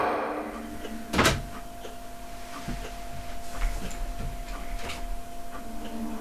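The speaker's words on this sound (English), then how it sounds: "an EVP had been recorded of what clearly sounds like a door opening and the shuffling of feet" In a quiet private house, one sharp door-like click or creak rings out near the start, then soft scattered shuffling and faint taps over a steady electrical hum.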